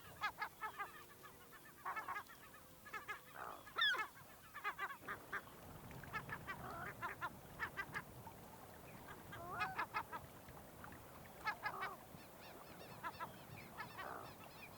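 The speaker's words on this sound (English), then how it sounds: "Seagulls act aggressively as we try to approach their nests." Gulls call from a nesting colony in the Lena River delta of Yakutia, a mix of repeated harsh, honking cries at varied distances, some close and sharp, others fainter, over a quiet open-air background.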